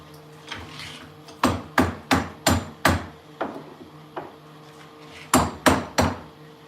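A hammer strikes close and loud in uneven bursts, a cluster of about five sharp blows followed by a pause with softer knocks, then another quick run of three hits; no voices.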